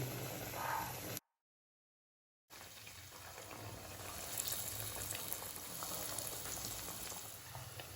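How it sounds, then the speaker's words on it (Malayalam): Parippu vada, lentil fritters, fry in hot oil over a medium flame, giving a continuous close crackling sizzle that breaks into brief silence before resuming steadily. "ഇതുപോലെ നമുക്ക് ബാക്കിയുള്ള മാവും ഷേപ്പ് ചെയ്തിട്ട് എണ്ണയിലോട്ടിടാം."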